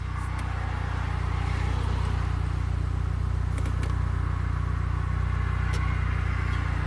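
A Saab idles in a workshop with its right rear wheel spinning, a steady low engine drone holding evenly throughout with faint clicks and light background noise.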